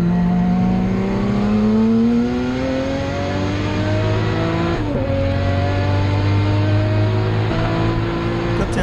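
A Nissan 300ZX race car laps Winton circuit, its engine loud and close, revving up through a long rising pull, then briefly dropping on a shift before climbing again.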